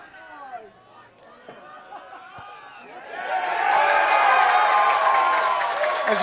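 A rugby crowd at a third-grade grand final between Brighton and Burnside rises from scattered chatter into a loud, sustained roar of cheering and applause after a successful conversion kick.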